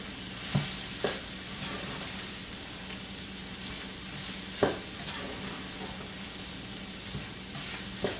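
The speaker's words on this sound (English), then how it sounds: "And give it a nice little stir. So it's nice and incorporated." Keto Cajun dirty rice with beef being stirred in a pan, a steady low sizzle under scattered spoon scrapes and clinks, with a few sharper knocks against the pan.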